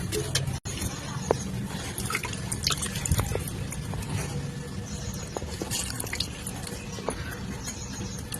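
Water sprinkled onto soil in a pot makes scattered drips and soft patters, close by, continuing steadily for several seconds with no voices.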